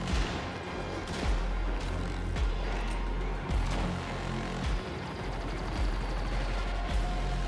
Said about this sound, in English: Give me the 10 gauge shotgun.